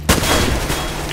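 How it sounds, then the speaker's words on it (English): A flashbang thrown during a Counter-Strike: Global Offensive match, a sudden loud burst that stays dense and harsh for about a second among game noise. "Throwing flashbang."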